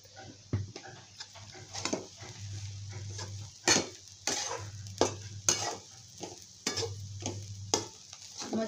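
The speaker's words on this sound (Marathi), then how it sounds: "मस्त असं भाजून द्यायचं आता।" Leftover chapati chivda stirred and roasted in a pan: a steady run of close spoon-scraping strokes in irregular rhythm over a soft sizzle and low hum, with no talking.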